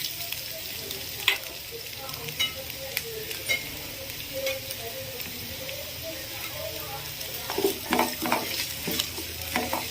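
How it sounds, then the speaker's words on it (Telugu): Onions and green chilies sizzle steadily in a hot pan, a constant frying hiss broken by scattered stirring clinks and scrapes, with a voice speaking quietly in the background. "ఇవి మంచిగా వేగేంత వరకు కూడా వేయించుకోవాలి."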